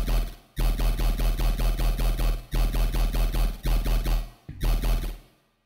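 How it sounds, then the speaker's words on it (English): A synthesized dubstep growl bass plays in rhythmic, pulsing bursts that form several choppy phrases separated by short cuts, loud and up front. The sound ends with a brief fading tail and has no talk. "I have this other bass that sounds kind of like this."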